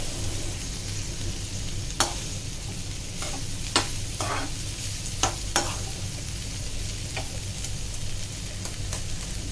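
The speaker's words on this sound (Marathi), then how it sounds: "भाजी गॅस बारीक ठेवायचा आता, आणि बारीक गॅसवरती आपल्याला तिला वाफवून घ्यायचा." Spiny gourd (kantola) vegetable cooking in a pan over a low gas flame, a steady soft sizzle broken by several sharp stirring clinks and scrapes; no talking.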